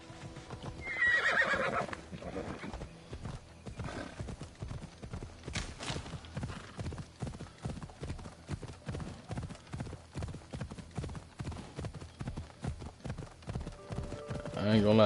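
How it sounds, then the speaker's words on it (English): Horse hooves clip-clop in a steady galloping rhythm throughout, with an occasional whinny, ridden in the video game Assassin's Creed Odyssey; a voice talks intermittently over the hoofbeats. "Horse."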